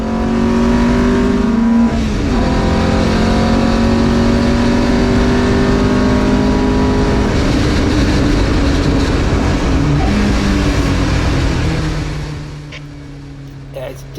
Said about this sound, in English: lovely smooth slick gear changes as he chases down the car in front